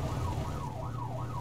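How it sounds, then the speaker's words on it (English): A police car siren in a video game wails in smooth rising and falling sweeps, repeating steadily and loudly over a low engine rumble. "You got the lights and sirens on."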